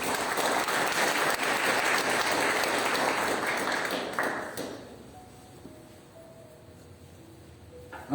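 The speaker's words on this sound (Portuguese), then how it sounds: "Mais uma vez aplaudo o Senhor." A church congregation at a Wednesday evening service applauds in a dense, steady wave that tapers off after about four seconds into a quiet room with faint tones.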